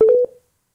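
A telephone call connecting on a radio show gives a brief burst of dialing tones, a few quick beeps under a second, clear and then abruptly silent.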